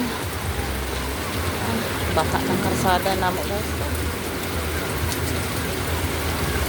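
Steady, dense rain hisses throughout, with a person talking briefly over the downpour.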